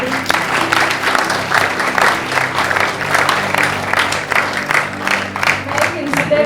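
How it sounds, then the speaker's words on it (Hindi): Loud, steady applause from an audience at a book inauguration ceremony, dense clapping sustained throughout with a murmur of crowd voices underneath. "तो एक बार जोरदार तालियां मेरे काका के लिए।"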